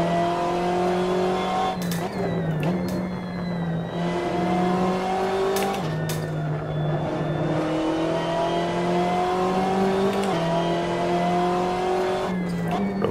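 A BMW M8 GTE race car in the Assetto Corsa racing game accelerates out of a hairpin, its engine droning steadily and rising through revs with several distinct gear shifts.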